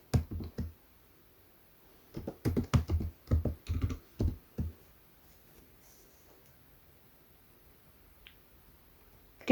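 Bursts of computer keyboard typing, a short word entered as a few quick clustered clicks, close and clear against a quiet room, then silence.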